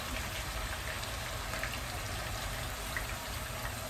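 Big pork chops frying in hot oil give a steady, dense sizzle and crackle, close and even throughout, with no talking over it.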